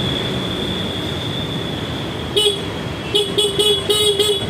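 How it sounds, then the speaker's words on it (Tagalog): A 2022–2023 Suzuki Burgman Street scooter horn sounds in several short honks, one brief blast then a rapid series of toots, close and loud over a steady background hum. "working din po ang kanyang busina"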